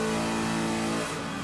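A 1969 Camaro engine on a dyno pull holds a loud, steady high-revving drone with strong harmonic tones, easing slightly near the end; no talk over it.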